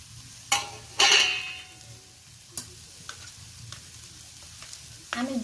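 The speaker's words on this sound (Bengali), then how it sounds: "এই পর্যায়ে এবার আমি গুড়টা মিশিয়ে দেবো" Jaggery being stirred into an amla (Indian gooseberry) pickle as it cooks, with a few sharp scrapes of the spoon against the pan over a soft, steady sizzle. No voices.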